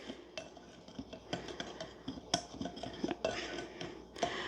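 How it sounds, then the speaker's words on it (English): A Danish dough whisk stirs cornmeal and fresh-ground flour in a bowl, giving soft, uneven scraping and light clinks against the bowl at close range, fairly quiet and without talk. "I'm just going to take my little Danish dough whisk here and incorporate that all together"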